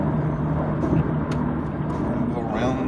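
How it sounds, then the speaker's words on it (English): Garbage truck rumbling along a street on a Jacksonville morning, a steady low engine drone with a brief hiss partway through, close by, while someone talks over it. "Go around in the garbage truck."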